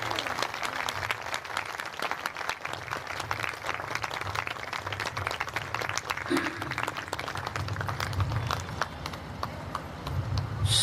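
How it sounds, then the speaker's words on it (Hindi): An audience at a spiritual gathering applauds, a sustained dense patter of many hands clapping at a steady loud level throughout. "एक बार सभी लोग दिल से ताली बजा करके उसका स्वागत करें"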